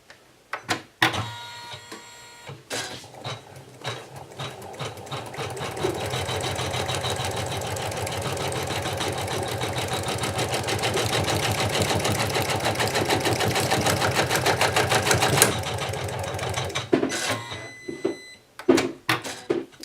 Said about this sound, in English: the first thing we're going to do is we're going to go ahead and run the placement stitch for our grouped felties